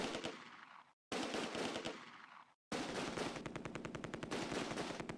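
Sustained machine-gun bursts and gunfire from the Close Combat war game set at Nijmegen bridge, loud and dense, cut by two short silent gaps, with rapid rhythmic rattling toward the end and no speech.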